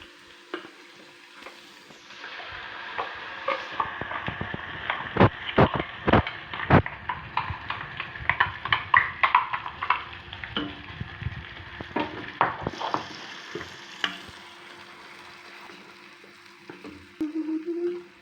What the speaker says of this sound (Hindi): इसके बाद हमने जो पेस्ट पीस लिया था अब हम ये डाल देंगे इसमें